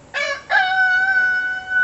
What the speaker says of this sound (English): Oh, that rooster.